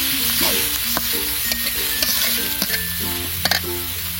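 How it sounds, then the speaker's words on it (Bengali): Spices stirred and fried in oil in a pan with a pinch of turmeric powder, a steady close sizzle broken by scraping stir strokes and a few sharp clinks of the spoon against the pan. "আর দিয়ে দিচ্ছি সামান্য হলুদ গুঁড়া। এবার সমস্ত মশলাগুলো দিয়ে নেড়ে নিব।"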